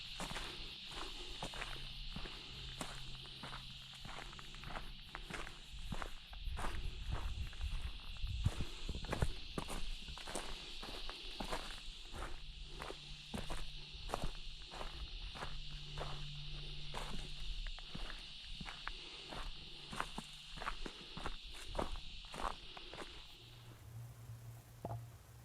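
Footsteps crunch at a steady walking pace through burnt bushland after a fire, close and clear, with a faint high insect-like hiss running beneath them.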